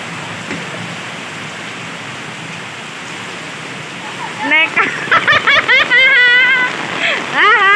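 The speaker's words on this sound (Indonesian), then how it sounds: "Hujan. Aku ya melu hujan." Heavy rain pours down in a steady, dense hiss throughout, and a person talks over it during the second half.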